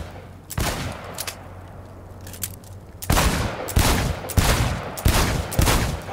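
Volleys of rapid gunfire ring out at a shooting range in Cyberpunk 2077, one short burst near the start and then four loud, closely spaced bursts over the last three seconds.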